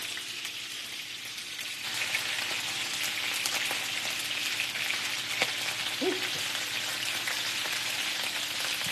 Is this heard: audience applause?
no